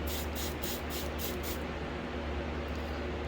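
Quick hand-pump spritzes of hydrogen peroxide hit a Stanhopea orchid seedling, about six short hissing bursts in a steady rhythm that then stop, leaving low background hum.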